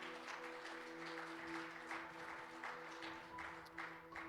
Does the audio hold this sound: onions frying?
no